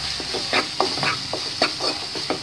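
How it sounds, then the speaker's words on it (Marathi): Prawn masala stir-frying in oil in a pan, with a steady sizzle broken by repeated scraping and stirring strokes of a spoon at an uneven rhythm, close and fairly loud, with no voices. "आता आपण हे चांगलं परतून घेऊया."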